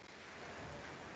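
Steady, fairly loud rain hiss fills the background of an online chemistry class on structure and bonding, constant throughout with no talking or other sounds.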